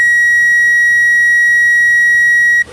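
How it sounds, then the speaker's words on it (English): A power probe held on a Suzuki Vitara's 12-volt power wire gives one steady, loud, high electronic beep lasting over two seconds before cutting off abruptly. "If it's good, you should see a red light, you should hear the beep, and read 12 volts on the power probe."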